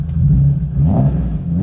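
A BMW E36 M3 engine, warmed up, gives a short deep rumbling rev that swells and settles, close and loud, with no talk over it.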